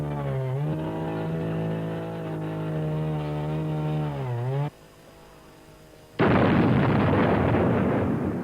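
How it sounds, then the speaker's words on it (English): A Swedish Husqvarna power saw cutting hardwood trees: a loud, close engine whine that holds steady, then dips and cuts off, followed by a short lull and an abrupt burst of harsh, broadband cutting noise. "had carried out some research before acquiring what was said to be the best power saw in Europe, the Swedish Husqvarna"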